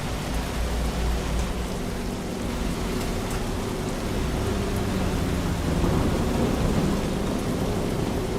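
Steady heavy rain with deep rumbling thunder rolling throughout in American Truck Simulator, a loud, continuous storm with no voices.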